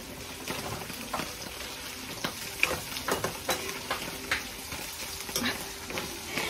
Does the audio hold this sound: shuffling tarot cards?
no